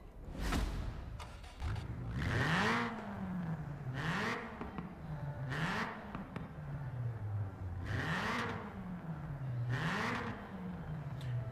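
Ford Racing Puma 1.7-litre engine in Forza Horizon 4 revving repeatedly, pitch rising and falling in about five distinct surges with raspy high-end bursts, loud and close throughout.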